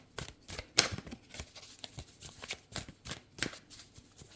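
Sacred Traveler oracle cards being shuffled by hand, soft papery riffles and taps in an uneven rhythm, close and fairly quiet with no speech.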